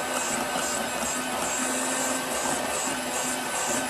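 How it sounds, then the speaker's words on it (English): An electric whisk beats cake batter with eggs for a Victoria sponge, a steady, loud motorised whirr that runs continuously with a slight pulsing rhythm and no talking. "This is a super powerful whisk"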